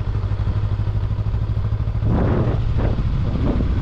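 Honda Rebel 500 motorcycle rolling slowly over a rough road on highway tyres, with a steady low engine drone and clattering bumps and thuds from the suspension over the uneven surface.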